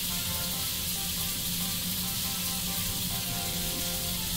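Buttermilk-soaked onions frying until crispy in a pan of hot oil, a continuous dense sizzle heard up close without any talk.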